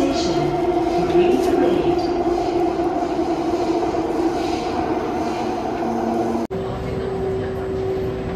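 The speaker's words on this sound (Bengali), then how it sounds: "এখানে দেখো মেট্রোটা অটোমেটিক চলছে, আর এই যে এসে গেছি আমার স্টেশনে" An automatic metro train in Singapore runs steadily with a constant engine hum and rail rumble, then the sound shifts abruptly as it slows and arrives at a station; no one speaks.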